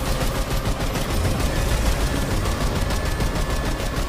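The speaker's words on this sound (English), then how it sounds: "I'm shooting at him" Sustained, dense automatic gunfire from a video game rattles continuously at close range and steady loudness for the whole stretch, with no talking.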